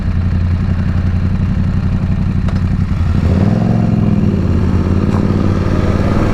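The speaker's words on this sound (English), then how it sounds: "In the background you can hear my son's motorcycle. It's the MT-07." A Yamaha MT-07 motorcycle engine runs nearby, a steady low rumbling idle that swells slightly partway through, heard alone on a Florida evening.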